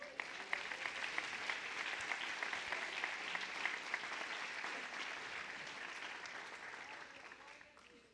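A church congregation applauding, a sustained wash of many hands clapping at moderate distance that slowly fades out toward the end.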